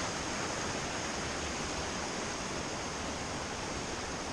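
Steady, dense rushing of a creek flowing beneath a narrow footbridge in the Great Smoky Mountains fills the scene, constant and fairly loud with no voices or breaks.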